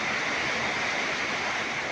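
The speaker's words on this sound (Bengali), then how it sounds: "কীভাবে বৃষ্টি হচ্ছে" Heavy rain and strong wind at night pour down as a steady, dense roar, unbroken and fairly loud throughout, with no voices over it.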